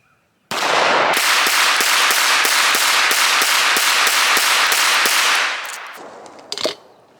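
An SA 35 pistol firing about twelve rounds in quick succession, loud sharp close reports in a rapid even rhythm over several seconds, then a few scattered clicks and a metallic clack as the firing stops.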